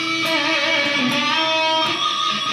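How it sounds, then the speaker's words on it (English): An electric guitar's pinched harmonic rings out loud and alone, a bright, sustained squealing tone with dense overtones holding for about two and a half seconds. "a pinched harmonic is going to sound like this"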